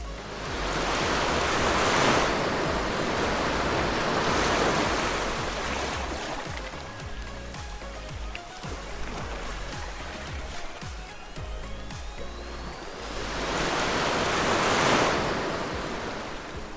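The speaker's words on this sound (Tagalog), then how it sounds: "kasi mahangin, tapos ang sarap pakinggan ng hampas ng tubig" Ocean waves crash onto the shore at Pusan Point, Davao Oriental, under gusting wind, with two big surges at the start and end and a quieter wash of water and wind between.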